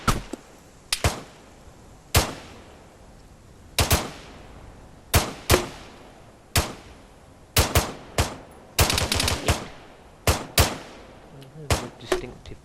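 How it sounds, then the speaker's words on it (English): Arma 3 gunfire with grenades going off, sharp cracking shots heard one at a time and in quick clusters, fairly loud, irregularly spaced across the whole stretch with no talking. "Distinctive pops and grenades going off there, but I can't see any explosions."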